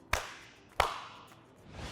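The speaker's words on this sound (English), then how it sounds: "give yourselves a big clap" Two sharp hand claps ring out about two-thirds of a second apart, crisp and close, as children finish a forearm plank exercise, then fade into quiet room tone with no talking.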